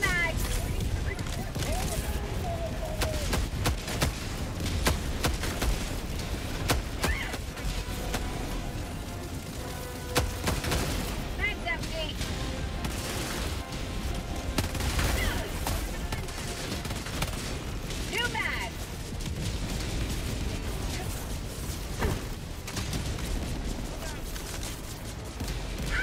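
Rapid gunfire and heavy explosions from a 380mm orbital barrage rattle on continuously in Helldivers 2, dense volleys and booms layered with game noise while a player talks over the action.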